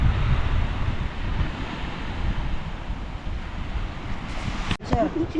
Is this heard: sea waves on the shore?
yes